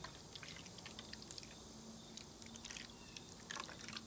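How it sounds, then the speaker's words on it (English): Water pours and trickles steadily into a paint tray for an ice painting activity, a soft continuous splashy wash with small drips, close and fairly quiet throughout. "First step we're gonna do is fill our tray with water."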